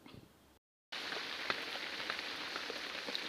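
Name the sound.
rain falling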